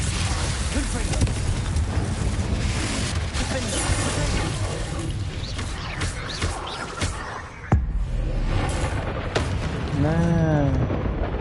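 Confringo fire spells blast in Hogwarts Legacy, loud booming bursts over dense game music and effects, with someone talking and shouting throughout.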